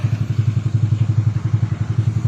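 A Honda Mio scooter engine runs after a connecting rod repair, idling close by with a steady, rapid putter and a rhythmic pulse, and no voices.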